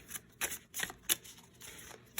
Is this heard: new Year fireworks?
no